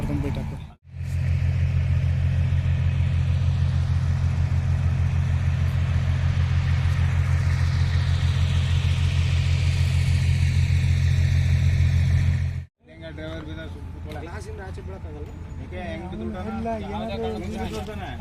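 A vehicle engine runs nearby at a stone quarry site, a loud, steady low rumble that holds for about twelve seconds between brief cutoffs, with voices talking over it.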